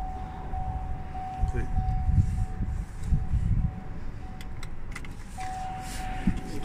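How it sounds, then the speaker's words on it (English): A key goes into the ignition of a Chevrolet Orlando LTZ diesel car, with faint jangling and small clicks over a low cabin rumble while a steady warning chime tone sounds in the background. "That put the key in."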